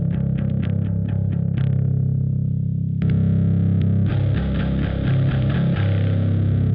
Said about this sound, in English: And then there's a raise hell, which is a distortion.